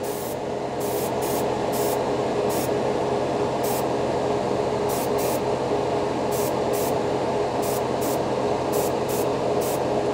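A Paasche H series airbrush sprays paint with a steady close hiss that runs through the whole stretch, with repeated short puffs as the trigger is pulsed.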